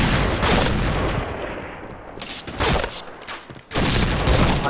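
Rapid bursts of gunfire from the video game Point Blank, loud and dense, with a brief lull before the shooting resumes near the end.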